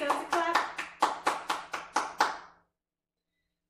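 Children clap together in about nine sharp, evenly spaced claps that are loud and close, then stop abruptly into silence.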